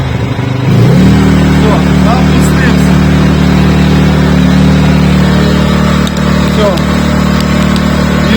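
Könner&Söhnen KSB 22i S inverter generator starting up and then running at a steady, loud, even hum with a low throb, with faint speech over it.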